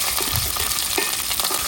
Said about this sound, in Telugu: లైట్గా వేపుకోవాలి.